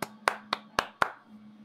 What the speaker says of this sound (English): Golf claps.